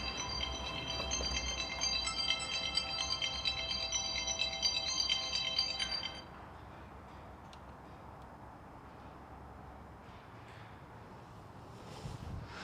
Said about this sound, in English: I don't know if y'all could actually hear the ringing